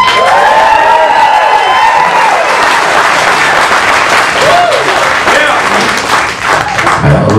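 A large audience at a country music concert bursts into loud applause mixed with whoops and cheering voices, dense and sustained across the whole stretch, with shouts rising above the clapping.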